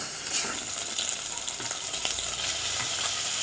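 Sautéed shrimp paste (alamang) sizzles in a pan for Bicol Express, a steady close frying hiss with faint stirring scrapes and no talk.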